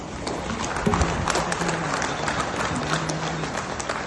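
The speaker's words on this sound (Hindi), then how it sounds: "खड़ा होकर के उनके लिए ताली बजाया जाए" A standing audience applauds the army at a Rabindra Jayanti event, a sustained, moderately loud crowd clapping with a few faint voices mixed in.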